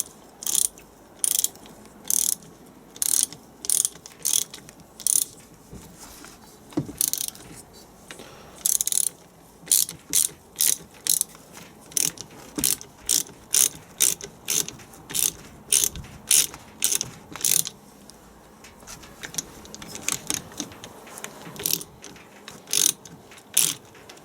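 A ratchet wrench tightens bolts on a Land Rover Defender TD5 LT230 transfer box, giving repeated bursts of sharp clicking in an uneven rhythm with short pauses between strokes, close and clear.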